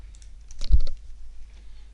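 A short cluster of keystrokes on a computer keyboard as an account ID is typed, a quick, close burst of clicks near the middle of an otherwise quiet moment.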